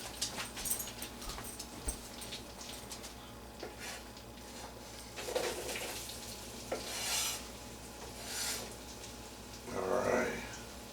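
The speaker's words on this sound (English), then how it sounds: "We got our onion and our garlic and our butter and our oil going." Onion and garlic sizzle in butter and oil in a home kitchen pan, a steady frying hiss with stirring scrapes and a few louder bursts, some faint background noise and brief sounds like a dog whimpering.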